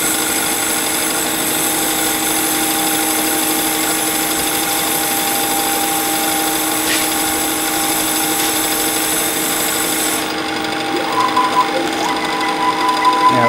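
A CNC lathe makes a deep taper boring finish cut, giving a steady loud high machining whine with constant tonal hum that shifts near the end as the cut changes.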